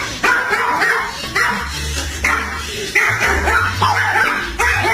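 A dog barks repeatedly and loudly, near the microphone, in a steady run of sharp woofs with short gaps, some higher yips mixed in.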